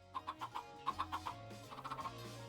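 Chickens in a farming video game cluck in quick rhythmic runs of four or five pulses, repeated three times, fairly close and clear over a low steady background hum.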